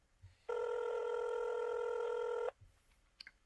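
Telephone ringing unanswered, one loud, continuous electronic ring lasting about two seconds before cutting off, followed by quiet room noise and a couple of faint clicks.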